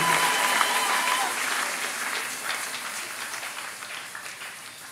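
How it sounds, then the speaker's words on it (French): A church congregation applauds and cheers loudly in honour of Jesus, a dense continuous wash of clapping and crowd noise that slowly tapers over several seconds. "Des acclamations, des fortes acclamations en honneur de Jésus."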